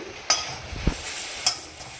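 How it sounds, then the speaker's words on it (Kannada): A spatula stirs potato fry coated in pepper powder around a pan, giving a few distinct scrapes and clacks over a faint, low sizzle, with no voices. "ಸ್ವಲ್ಪ ಪೆಪ್ಪರ್ ಪೌಡ್ರು ಜಾಸ್ತಿನೇ ಸೇರಿಸಿ ಆವಾಗಲೇ ಗ್ರೇವಿ ಗ್ರೇವಿ ಥರ ಚೆನ್ನಾಗಿರುತ್ತೆ ನೋಡಿ ಎಲ್ಲದಕ್ಕೂ ಮಿಕ್ಸ್ ಮಾಡೋ ಥರ ಕಲಿಸ್ಕೊಳ್ಳಿ"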